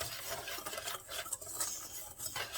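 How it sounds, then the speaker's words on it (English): Sugar and flour are whisked in a bowl with a quiet, quick scratchy rasp of wires against the dry mix, in steady rhythmic strokes at close range. "I'm going to whisk that with 3 tablespoons of flour"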